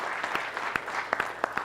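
Audience applause at an entrepreneurship conference, a short burst of scattered claps with a few sharper individual hits, moderately loud and fairly close, with no one talking.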